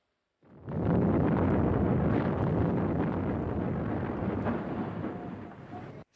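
A submarine explosion at a shipyard port in India erupts after a moment of silence into a deep, roaring rumble that holds steady for several seconds before cutting off abruptly.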